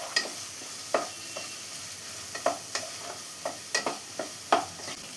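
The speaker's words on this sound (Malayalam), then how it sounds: "സവാളയെല്ലാം കളറൊന്ന് മാറി വരുന്നവരെ നന്നായി തന്നെ ഒന്ന് വഴച്ചെടുക്കാം" Sliced onions with green chillies sautéing in a pan for chicken thoran: a low, steady sizzle broken by about ten distinct spatula scrapes and taps at an uneven rhythm, close and with no talking.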